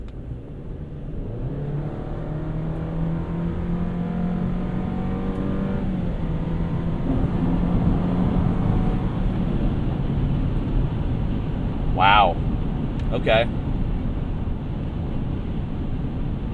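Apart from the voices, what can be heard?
2023 Chevrolet Colorado Z71 engine accelerating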